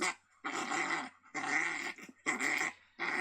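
A coyote growls and snarls in rough, repeated bursts with short pauses between them, harsh and close, played from a predator call.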